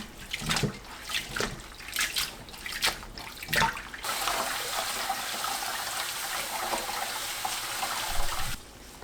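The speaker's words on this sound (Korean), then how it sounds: "물에 한번 헹궈서 사용합니다." Dried shredded squid is rinsed under running water. A few splashy bursts give way to a steady stream that pours and gurgles close by, then cuts off at the end.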